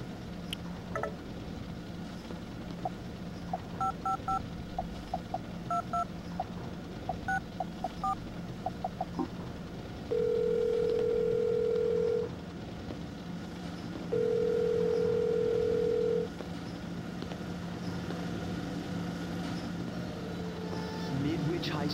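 Phone keypad dialing tones from Silent Hill Shattered Memories, a rapid run of short beeps, then two long steady dial-tone blasts over a low in-game ambient hum.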